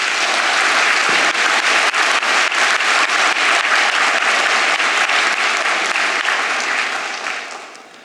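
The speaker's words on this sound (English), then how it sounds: "Let's give them a round of applause." Loud, sustained applause from a large crowd at a university graduation ceremony, dense clapping filling the space for several seconds before tapering off at the end.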